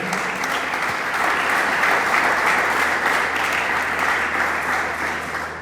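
A church congregation claps together in sustained, dense applause that stays loud and even throughout.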